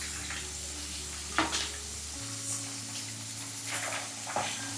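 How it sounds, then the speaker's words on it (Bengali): Hilsa fish fries lightly in a pan, a steady close sizzle with a faint hum and occasional soft clatter. "মাছের একটা পিঠ ভালো করে ভাজা হয়ে গিয়েছে, ওপর পিঠটাও উল্টে দেওয়া আছে"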